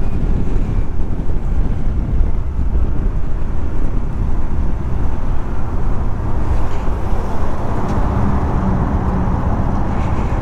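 A Yamaha SMAX 155 scooter rides through busy city traffic, its engine hum blending with loud, constant wind rush and road noise throughout, with no break.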